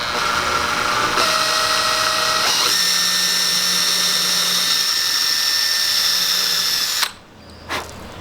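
A power drill boring a pilot hole into a wooden shadow box frame: a loud, steady high whine that steps up in pitch as the bit bites, then cuts off abruptly, followed by a short faint clatter.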